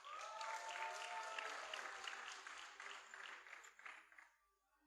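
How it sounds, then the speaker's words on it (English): An audience at a preparatory school graduation ceremony applauds school drummers, a sustained burst of clapping from many hands that holds steady, then thins out and fades near the end. "so give them a round of applause."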